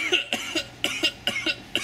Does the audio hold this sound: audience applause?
no